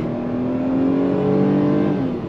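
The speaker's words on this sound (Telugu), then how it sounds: "సో ఒక్కసారి మాన్యువల్లో పెడుతున్నానండి, సెకండ్ గేర్లో ఉంది. ఎట్లా షిఫ్ట్ అవుతుందో చూద్దాం." Tata Altroz DCA accelerating hard in manual mode in second gear, a loud steady engine drone with rising pitch as revs climb, held close and continuous without a shift.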